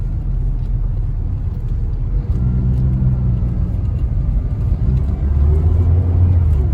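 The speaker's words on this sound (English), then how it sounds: "See, my wheels are spinning quite a bit quicker." A Saturn car with ABS and traction control drives on a slippery road as its wheels spin, giving a loud close engine rumble and whir that builds near the end, with no talking.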